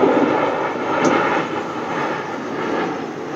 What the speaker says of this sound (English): I have an airplane passing by.